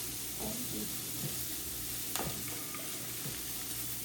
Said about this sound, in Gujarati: કેપ્સિકમને 1-2 મિનિટ જેવું ચડવા દેવાનું